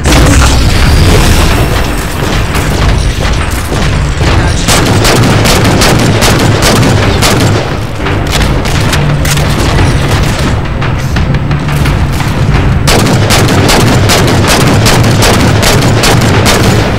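Halo 4 combat rages with continuous heavy gunfire and booming explosions, loud and relentless throughout, sharp bursts of shots stacked over deep rumbling blasts with no pauses.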